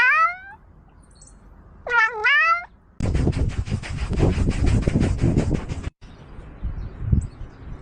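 A cat meows twice, short rising-then-falling cries heard close and clear, followed by a stretch of dense rustling noise and quieter background sounds.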